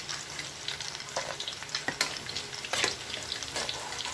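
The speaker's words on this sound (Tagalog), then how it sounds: "Continuous lang po natin ang pagpiprito." Tofu fries in oil with a dense, crackling sizzle dotted by sharp spitting pops and occasional stirring noises, close up and continuous.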